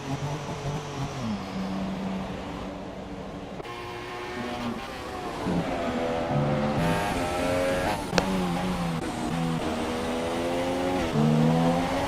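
Formula race cars in the video game F1 2017 at the Hungary circuit, engines whining continuously and loudly, pitch climbing and dropping sharply with gear changes, with a faint tire squeal.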